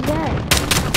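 Call of Duty Modern Warfare gunfire: a few spaced, loud bursts of close shots in the second half, after a brief stretch of voice and game noise.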